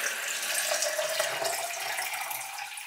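Water pours steadily into a protein shaker bottle at close range, a continuous bright rushing stream with no talking.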